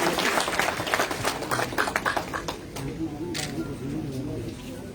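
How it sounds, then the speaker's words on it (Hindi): A crowd at BJP party headquarters claps in welcome for a new party member, dense applause loud at first and then thinning out and fading over a few seconds, with voices mixed in. "तालियों से स्वागत।"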